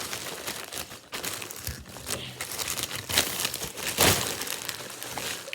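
Plastic and cardboard packaging of an Adidas FIFA World Cup football box being opened, with steady close crinkling and crumpling and a few sharper rustles, no talk.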